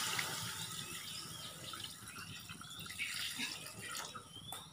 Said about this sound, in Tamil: சிக்கன் கிண்டிட்டு அதிலே தண்ணி ஊற்றிக்குவோம்.